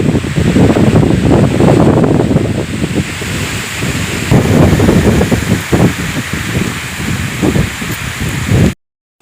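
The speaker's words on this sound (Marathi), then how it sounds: "किती जोराचा पाऊस सुरू झाला मित्रांनो या ठिकाणी" Heavy rain pours down in a dense, loud roar in dense forest, with gusty wind buffeting the microphone, continuous and close, no voices.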